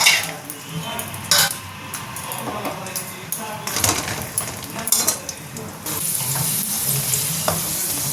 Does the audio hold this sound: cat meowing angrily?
no